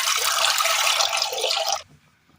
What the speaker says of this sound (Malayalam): അടുപ്പത്ത് ഒരു ചട്ടി വെച്ച് കൊടുത്തിട്ട് അതിലേക്ക് ഒരല്പം വെള്ളം ഒഴിച്ചു